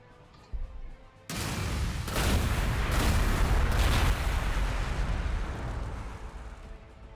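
A tank in Warhammer 40,000: Gladius fires a heavy booming shot, followed by a long, loud rumbling blast that rolls on and slowly fades, after a couple of small thuds.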